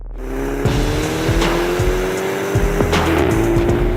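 A 2019 MINI hatch drives off, its engine rising in a steady drone with tire noise and a few bumps, loud and close with no talk.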